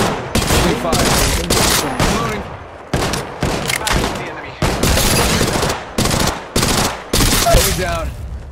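Rapid automatic gunfire in the Apex Legends Mobile video game, loud dense bursts of fire repeating in quick succession with short gaps between, close and dominant.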